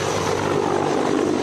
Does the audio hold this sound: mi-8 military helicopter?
yes